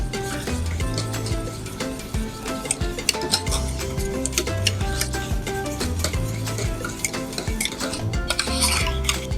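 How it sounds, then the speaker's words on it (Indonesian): Pastry cream is stirred in a bowl while gelatin is mixed in warm, with soft scraping and light clicks running steadily under loud background music. "kita aduk merata"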